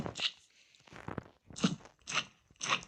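Squelchy, chewing-like slime noises from Minecraft come in four short wet bursts with gaps between, fairly close and loud, with no talking.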